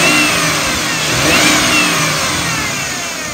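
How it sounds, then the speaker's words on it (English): A 2005 Ford Taurus SE engine is revved from idle and held, giving a loud, close, sustained roar that swells and eases slightly with a faint whine riding on top. "Let me rev it up, I can do it from here."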